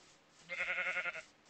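A Minecraft sheep bleats in a quick wavering run of pulses, fairly loud and close, in a game setting with no talk over it.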